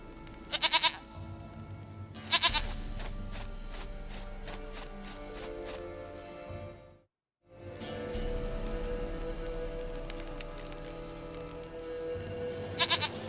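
Goat in the video game The Witcher 3 giving several sharp, stuttering bleats and a pair of long, drawn-out bleats, split by a brief moment of silence, with no talk.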